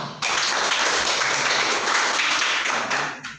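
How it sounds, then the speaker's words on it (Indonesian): Students in a classroom clap together in a sudden burst of applause that starts sharply and holds steady, loud and close, before fading out at the end. "Nah, betul, tepuk tangan."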